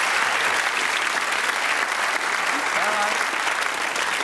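Studio audience applause on a 1991 Telly Addicts game show, a steady, dense wash of clapping that holds evenly for several seconds, with a faint voice briefly audible near the end.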